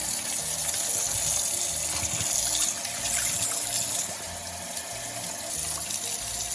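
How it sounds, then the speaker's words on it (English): Tap water runs steadily as something is rinsed under the faucet in a kitchen sink, a close, continuous gushing splash with slight shifts in flow. "Rinsing."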